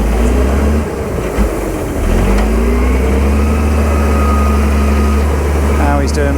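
The engine of a big digger revs hard and steadily, a loud close drone that rises and holds while the machine tries to lift its front wheels, with a voice talking over it.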